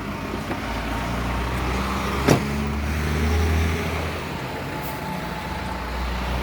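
A 2000 Volkswagen Bora, started with a keyless start-stop system, idles with a steady low engine hum, broken by one brief sharp click midway and a slight swell in the rumble afterward.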